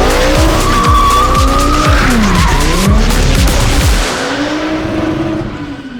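Drift car sliding around a track at a German motorsport festival, loud engine roar with rising and falling revs and sustained tire squeal close by, fading toward the end.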